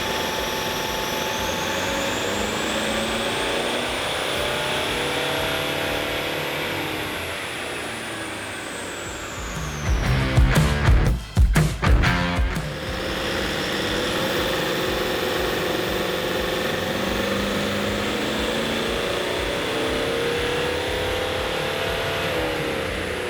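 A tuned diesel engine runs with a steady, loud drone, briefly revving hard with a rough, pulsing roar in the middle before settling back to idle.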